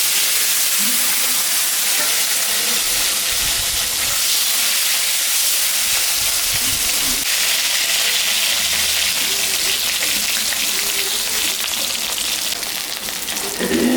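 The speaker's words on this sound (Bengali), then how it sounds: "একটা আলু আমি একটু ভাজে নেব।" A potato fries in hot oil in a home kitchen, a continuous hissing sizzle with soft stirring clatter, fairly loud and close throughout.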